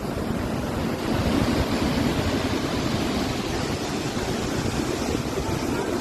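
Strong ocean surf rolls onto a beach at Santa, Ilocos Sur, a steady loud wash of breaking waves with wind rumbling across the microphone, no voices over it.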